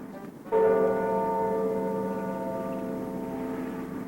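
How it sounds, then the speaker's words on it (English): A large bell strikes once with a sudden clang, then its deep, rich tone hums and slowly fades while ringing on. "The rope rang the big bell right under Mrs. Bird's nest."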